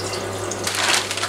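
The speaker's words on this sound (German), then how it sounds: "jetzt kommt einfach noch Wasser rein" Water pours into a cooking pot of goulash that already holds tomato paste, a loud, steady rushing splash that swells and brightens toward the end.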